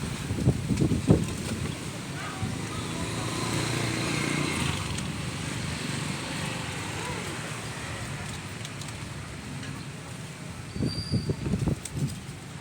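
Strong gusty wind blowing dust outdoors, a continuous roaring rush buffeting the microphone, with a person talking briefly at the start and end.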